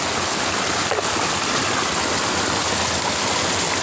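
Strong stream water rushing steadily through a narrow channel by a bamboo-lined fishing spot in the Konkan, a loud, unbroken broadband roar that holds constant throughout with no voices.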